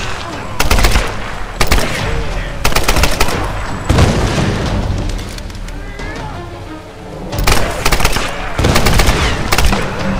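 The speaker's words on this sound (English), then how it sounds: "I got a machine gun too" Machine gun fire in the Tomb Raider video game comes in loud repeated bursts of rapid shots, separated by short gaps of in-game noise.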